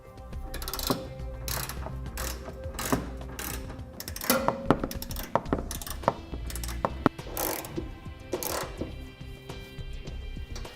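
A hand ratchet snugging down flange nuts and mounting hardware while installing a Curt trailer hitch receiver on a vehicle, quick bursts of close metallic clicking with brief pauses and clanks of tools between runs.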